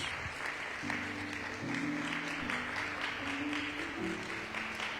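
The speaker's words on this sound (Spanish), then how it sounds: "¿Le puede dar un aplauso al Señor Jesús?" A church congregation applauds, a soft steady patter of clapping heard at a distance under sustained organ or keyboard chords.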